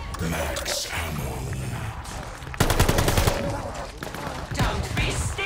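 Automatic weapon fire in Call of Duty: Vanguard Zombies, a dense rattling burst that swells midway through amid continuous game din, with a faint voice at times.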